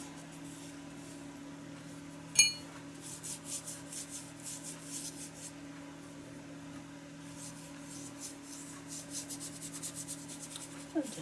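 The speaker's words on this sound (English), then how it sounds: "I'm just scrubbing it in to put some color on." A brush scrubs paint onto an art journal page, making faint, continuous close-up rubbing strokes with one sharp tick near the start.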